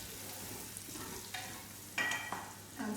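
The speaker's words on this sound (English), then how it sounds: "just frying in the onions" Onions sizzle and fry in hot oil left from frying chicken, with a few scraping stirs of a utensil against the pot, fairly quiet and close.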